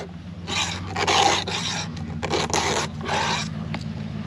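Rough rasping strokes in bursts, a file scraping back and forth over a chainsaw during maintenance, close by, over a low steady hum.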